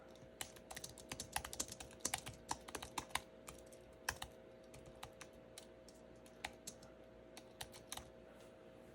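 Typing on a keyboard paired with a 2021 iPad Pro 11 M1: a steady patter of close key clicks with irregular bursts and short pauses over about nine seconds, quiet and with no talking.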